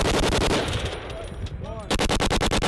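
US Marines fire heavy weapons during a live-fire exercise: rapid bursts of automatic gunfire crack loudly and close, pause briefly with a ringing echo, then resume as a fast, evenly spaced string of shots.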